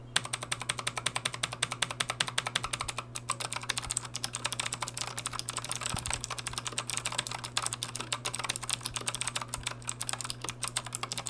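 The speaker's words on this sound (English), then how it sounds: "Typing on this feels and sounds exceptional." Rapid, steady clicky keystrokes from a RAKK APIQ.2 mechanical keyboard with blue switches, crisp and close, typed continuously with no talking.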